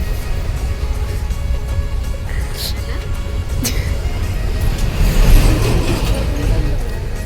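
A car moves through packed road traffic hemmed in by lorries, its engine and road rumble a steady low drone throughout, with people talking inside the cabin over it.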